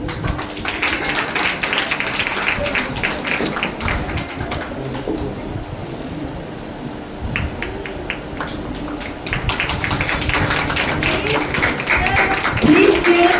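An audience at a final-day celebration at an ITI applauds students as their names are called, steady crowd clapping running throughout with some speech and background bird cooing mixed in.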